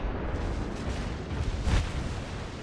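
Secondary guns on a warship in the naval combat game World of Warships fire in a dense rumbling barrage, with a sharper louder blast near the middle and no talk over it.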